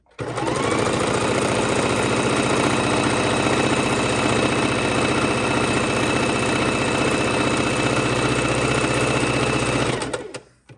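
A sewing machine runs steadily for about ten seconds, stitching across a 10-inch fabric square for a soup bowl cozy. The loud, continuous, even motor whir starts and stops abruptly, with no talking.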